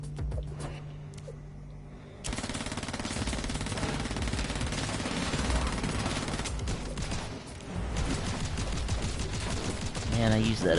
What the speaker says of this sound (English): I like this machine gun better than the revolver.